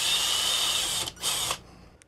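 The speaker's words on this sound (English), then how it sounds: "First, I'll drill my pilot holes, and then we'll work up to the actual size." Power drill boring pilot holes in plastic for a screw terminal, a loud high whine that runs steadily for about a second, dips briefly, then spins up again before stopping, close and alone.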